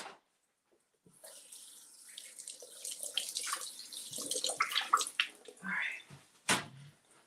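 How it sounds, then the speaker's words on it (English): Water runs from a kitchen tap while food is rinsed, a splashing, hissing flow that builds and varies as items pass under it, with a few clunks in the sink near the end. "Let's rinse these off."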